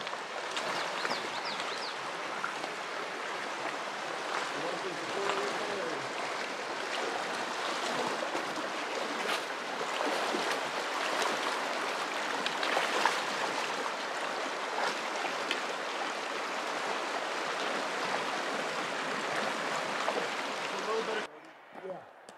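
The Gila River flowing beside a trail, a broad steady rush and splash of water that continues evenly and then cuts off abruptly near the end.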